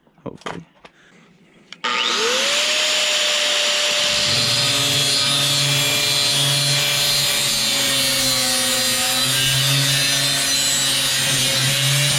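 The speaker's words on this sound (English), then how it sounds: "I just finished cutting down the lag right here" A power tool cuts down a steel lag bolt with a loud, continuous grinding whine that starts abruptly and holds steady, its pitch shifting slightly under load, after a few faint knocks.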